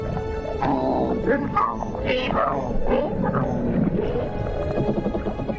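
Overlapping grunting and croaking calls from several cichlid fish in a dispute, loud and continuous, with rough bursts rising over a dense low rumble.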